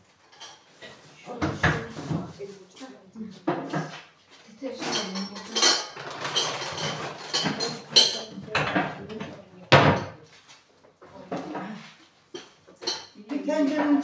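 Dishes, pots, lids and cutlery clatter and clink repeatedly while being handled and stacked away during a kitchen cleanup, with people talking throughout over the irregular bursts of metal and crockery.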